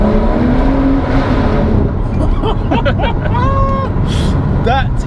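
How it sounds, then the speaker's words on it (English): A tuned Litchfield Stage 2 BMW M140i at around 450 bhp, held in second gear, loud engine roar with a string of sharp exhaust pops and crackles overlaid, heard from inside the car with a window slightly open and voices over it. "The pops are crazy."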